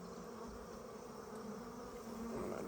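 Honeybees from a newly installed package colony hovering near a hive, a steady, faint, continuous buzz of many insects close around.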